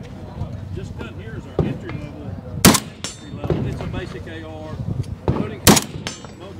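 Two sharp, loud gunshots from a basic entry-level AR rifle at an outdoor industry-day range, a few seconds apart, while people talk throughout.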